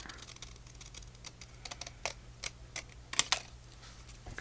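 Scissors cutting paper for a trifold accordion ephemera holder: a handful of quiet, sharp snips and rustles spaced irregularly, louder near the end, with no talking.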